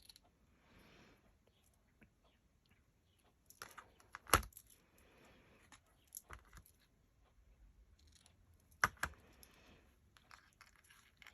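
Paper being cut with scissors while crafting a pocket and tag from a greeting card envelope: a few quiet snips and paper rustles separated by pauses, close by, with two sharper clicks, no talking.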